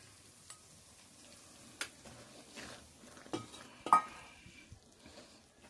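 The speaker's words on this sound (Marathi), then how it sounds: "आपण याला आता हलका मंदाच्यावर भाजून घेणार आहोत छान खरपूस होईपर्यंत" Urad dal flour roasting in a pan over low heat for methi ladoos, heard as faint, sparse scraping and stirring with a few soft utensil knocks against the pan, quiet and without speech.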